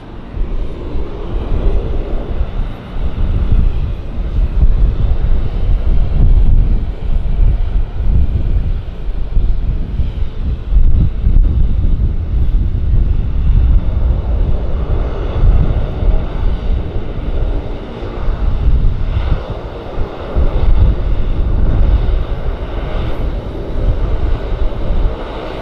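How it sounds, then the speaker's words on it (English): An airliner taxiing at the main terminal of Vancouver Airport (YVR), a steady low engine rumble heard from a distance with some wind noise, continuous throughout and without talk. "There's the WestJet that I saw. He's taxiing at the main terminal there."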